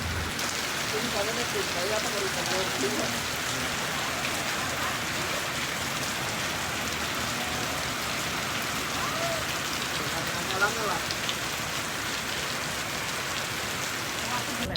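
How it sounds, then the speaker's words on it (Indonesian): Steady rain falling outdoors in Bandung, a dense, even hiss of drops on surfaces running throughout, with faint background activity beneath. "setelah isoma ternyata hujan lagi"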